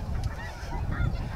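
Snow geese honking during a spring hunt in North Dakota, a dense chorus of overlapping calls with a rumble of wind or wingbeats, loud and close.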